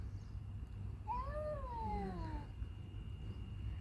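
Cats fight outdoors during a morning walk, with one drawn-out rising and falling yowl about a second and a half long that dips into a lower growl, heard from a moderate distance over steady low background rumble.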